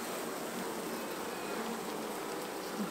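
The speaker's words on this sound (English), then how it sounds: "Lots of bees." Honey bees hum steadily in an open hive during an inspection, a dense continuous buzz that stays close and even throughout with no voices.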